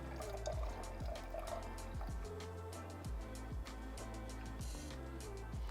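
Wine is poured into a glass along a stick, giving a steady close liquid trickle with repeated gurgling glugs that rise in pitch as the glass fills.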